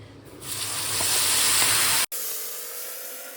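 Fenugreek seeds hit hot oil in a pan with a loud, close, hissing sizzle that builds and holds for about two seconds, then cuts to a quieter, steady frying hiss.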